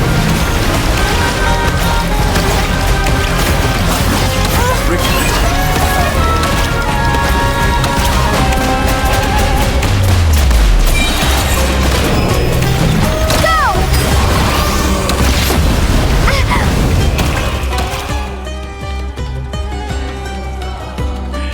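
Bombs exploding in the game Genshin Impact, a dense, loud barrage of crashing, splintering blasts and debris layered with game effects and a low rumble, continuous for about eighteen seconds before easing off.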